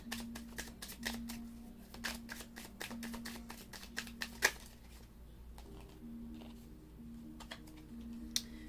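Tarot cards being drawn and shuffled by hand, a quiet run of rapid crisp clicks and riffles in quick bursts, then a short pause before a few more soft snaps, close up over a faint steady hum.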